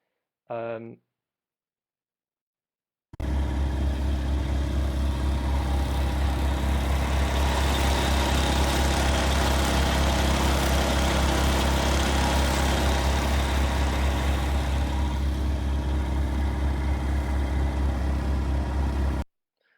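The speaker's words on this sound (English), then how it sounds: "So you can see there I'm pulling it behind the quad bike, our Logic harvester" A quad bike pulls a Logic seed harvester across a Welsh meadow, its steady engine drone loud and close and running continuously for about sixteen seconds after a brief opening sound.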